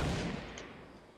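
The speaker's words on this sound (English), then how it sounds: "There's gunshots." Gunfire in Fortnite Battle Royale, a loud shot at the start that trails off into a fading, reverberant rumble.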